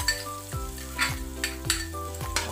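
Garlic sizzles in hot oil in a pan with a steady crackle, punctuated by a few distinct clacks of a utensil against the pan at regular intervals.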